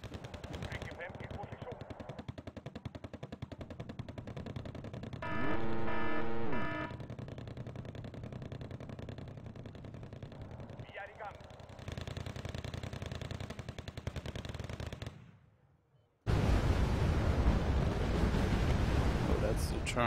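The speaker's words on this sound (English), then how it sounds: "I think the machine gun is doing more damage than the main cannon on those things." Machine gun fire in the real-time strategy video game Wargame Red Dragon, a sustained roar of rapid automatic bursts with a rattling stretch, heavy battle noise and explosions, a brief near-silent gap and then dense gunfire again.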